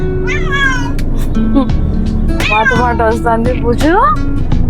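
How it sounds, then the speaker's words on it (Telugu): A cat meows repeatedly, loud and close, with drawn-out rising and falling cries while a person talks underneath. "మా క్యాట్, మా బుజ్జి మాతో పాటు వస్తుంది."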